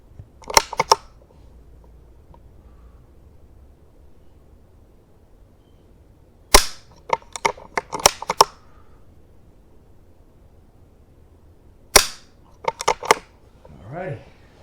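Sharp mechanical clicks from a rifle being dry fired come in three short clustered bursts separated by long quiet gaps, close and crisp, with a faint rustle at the very end.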